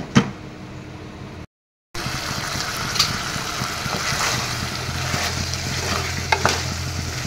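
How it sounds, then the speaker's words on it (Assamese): Chicken cooked with taro stems is stirred in a pan, giving a constant frying sizzle with occasional scraping knocks from the stirring. A short silent break comes early, then the sizzle resumes. "এফালৰ পৰা এনেদৰে তলপৰ কৰি লৰাই দিছোঁ"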